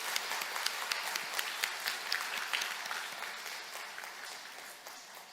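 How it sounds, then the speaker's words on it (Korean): Church congregation gives farewell applause during a Sunday service: a broad wash of many hands clapping at moderate level, steady at first and gradually thinning and fading toward the end. "이 시간 인사드릴 때 우리 환송의 박수로 그렇게 한번 박수해 주시면 좋겠습니다"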